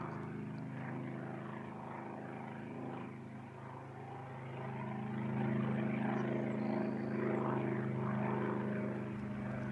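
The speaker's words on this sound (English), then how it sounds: "Originally powered by a Curtiss-owned OX5 water-cooled V8 engine, producing a mighty 90 horsepower." A wood-and-fabric Curtiss Jenny biplane with a 90-horsepower water-cooled Curtiss OX5 V8 drones overhead at an air show, a steady propeller hum that swells louder as it passes at moderate distance.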